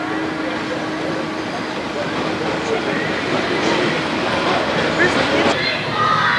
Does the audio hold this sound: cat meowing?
no